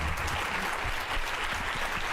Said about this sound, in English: please applaud Julia Molloy